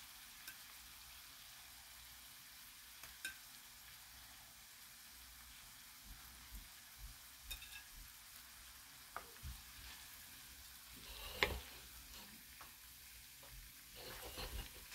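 Thinly sliced beef sizzles and fries in a pan while being stirred, a steady soft crackle with intermittent scraping clicks and a brief louder burst of sizzling midway, no talking.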